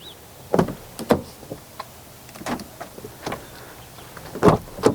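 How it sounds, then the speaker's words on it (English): Back doors of a rusty Ford Expedition SUV are worked by hand, giving a series of sharp metallic clunks and latch clicks in irregular bursts, fairly close, with quiet gaps between them. "If I open the back doors,"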